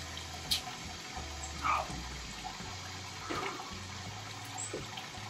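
Wort drains from a brewing pot as the grain is lifted during a Belgian-style rye IPA brew, a quiet continuous trickle and splash with a few brief louder gurgles.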